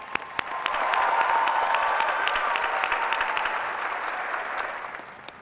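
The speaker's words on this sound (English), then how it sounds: "Let's give them a round of applause." An audience applauds graduates at a Fall 2024 college recognition ceremony for the College of Health and Human Services at WKU, steady clapping swelling quickly and holding for several seconds before tapering, heard from across a large hall.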